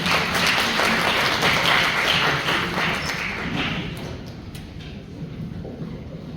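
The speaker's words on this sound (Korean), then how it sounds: "큰 박수로" An audience at a university lab introduction welcomes a professor with a steady round of clapping that gradually thins and softens toward the end.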